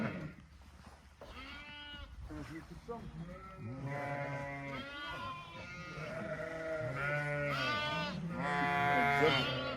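Lambs bleat repeatedly while being held, with several close, wavering cries that overlap and grow louder toward the end. Someone talks briefly between the calls.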